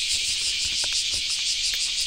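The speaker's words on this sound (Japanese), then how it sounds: "今これね、セミの音すっごい鳴いてるんで、1時間ぐらい撮ろっかな。" Cicadas shrill steadily in summer heat, a dense, unbroken high buzzing drone that fills the air at even loudness, with faint low background rumbles underneath.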